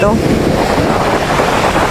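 Steady roar of ocean waves mixed with heavy wind buffeting the microphone, loud and continuous.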